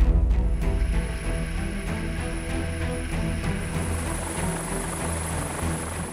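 A U.S. Coast Guard MH-65 helicopter thrums with a steady rotor and turbine drone, loud and close, a constant whine running over a deep pulsing beat with no voices.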